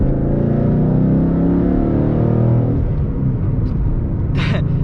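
A Roush Warrior Mustang GT with a manual gearbox, one of 50 built, its engine droning loudly under load with a deep rumble, then easing off as the revs drop near the end.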